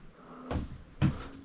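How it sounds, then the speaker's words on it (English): Shed doors being opened: two separate wooden knocks and thumps about half a second apart, close and moderately loud, with light rattling after each and no speech. "Just gotta open these doors."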